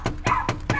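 A dog gives four quick, evenly spaced whimpers or yips close by, each short and high-pitched, with no talking.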